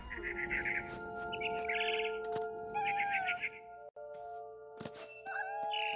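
A cat meows repeatedly in the video game What Remains of Edith Finch, with several clear, close calls rising over a steady synthetic musical drone and faint bird-like chirps.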